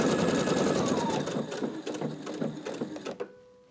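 Sewing machine running a stretch stitch along a long seam on jeans, a fast continuous mechanical whir and needle clatter close up that slows and stops near the end.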